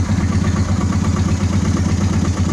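A 2003 Honda Shadow Spirit 750 motorcycle engine with unsynchronized carburetors idling steadily with a slightly uneven, choppy, pulsing rhythm, close and fairly loud, no voices.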